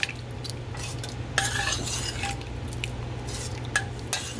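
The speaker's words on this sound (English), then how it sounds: "mix it and let it cook again on medium flame for about 5 minutes or so" A spoon stirs coriander and cumin powder into gongura dal in a pot on the stove, giving steady scraping and sloshing against the metal with a few sharper clinks, close and alone over a faint low simmer.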